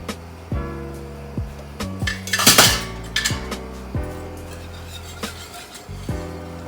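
A utensil scrapes and clinks against a metal pot in irregular strokes, stirring parmesan into Alfredo sauce, close by, with several sharper knocks mixed in and a low hum behind.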